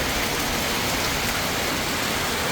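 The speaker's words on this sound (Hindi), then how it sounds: "सही तूफानी बारिश हो रही है" Heavy stormy rain pouring down in Abbottabad, a dense, steady hiss of drops beating on surfaces, loud and unbroken throughout with no voices.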